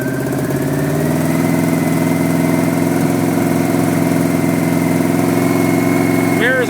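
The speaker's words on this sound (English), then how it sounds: "Let's rev her up, warm her up a bit." A 1984 Yamaha Venture motorcycle engine idling steadily and revving slightly to warm up, a constant close mid-pitched hum with gentle rises in pitch, a voice talking over it.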